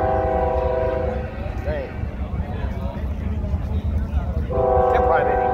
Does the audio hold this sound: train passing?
yes